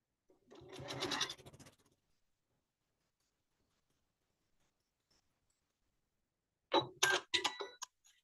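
A sewing machine stitches fabric pieces for a scrappy quilting project in two short bursts of rapid, close mechanical whirring, separated by a long quiet gap.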